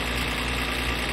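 A car engine in the My Summer Car video game, running at a steady close rumble with a constant vibrating drone throughout and no talk.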